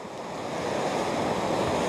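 Strong ocean waves break on a beach at Inverloch in a continuous loud roar of surf, with wind buffeting the microphone throughout and no voices.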